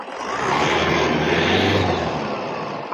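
A Toyota Innova engine held at a steady high rev for a few seconds, a dense, loud and continuous roar with no voices over it.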